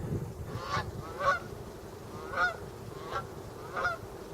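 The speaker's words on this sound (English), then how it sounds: "Oh, hello geese." Geese honking at Tin Can Beach in Saint John, New Brunswick, five or so loud nasal calls spaced about a second apart at moderate distance over steady outdoor background noise.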